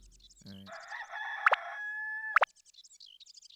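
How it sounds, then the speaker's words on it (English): A chicken crows loudly and clucks in the video game Dark Cloud, a clear, drawn-out cock-a-doodle-doo call with brief clucks around it and some faint background game sounds. "Chicken's going nuts."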